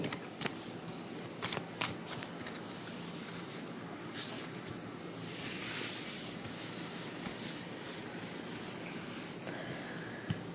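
Large tarot cards are handled close by for a weekly fortune reading, with soft riffling and papery slides, a few sharp snaps early on and a longer shuffle swell in the middle, all fairly quiet with no talking.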